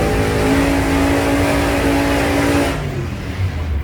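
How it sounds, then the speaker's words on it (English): Loud, steady roar of high-powered alcohol-fueled drag racing engines idling and rumbling, then the tone drops and grows rougher near the end. "Alcohol engines are going"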